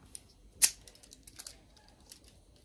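A folding pocket knife blade is flicked open one-handed, giving one sharp, close metallic snap followed by a few small, quieter clicks.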